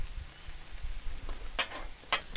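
Chorizo and chicken fry on a hot Blackstone griddle with a faint, steady sizzle, broken by two sharp, crisp scraping clicks near the end.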